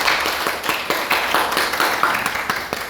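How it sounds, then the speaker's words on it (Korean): A Korean church congregation at a new-member class claps together, a steady run of rhythmic group claps, fairly close and lively, with no speech over it. "박수 한번 줘."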